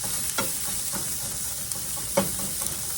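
Onions frying in a skillet for pork fried rice give a steady broadband sizzle, broken by a few soft stirring scrapes near the start and again in the middle.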